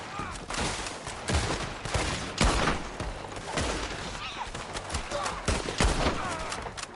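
Artillery and gunfire crash through a Red Dead Redemption 2 battle as a rapid, loud series of heavy blasts and shots, with overlapping bursts and no quiet gaps.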